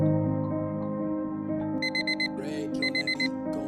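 An alarm clock set for 4 am rings in short, repeated electronic beeping bursts over a steady background hum, loud and close, with no one speaking.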